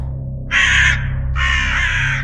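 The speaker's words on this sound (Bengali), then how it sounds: "বাইরে থেকে ভেসে এলো কাকদের সম্মিলিত চিৎকার" Crows caw loudly outside in two long overlapping bursts of harsh calls, over a steady low hum.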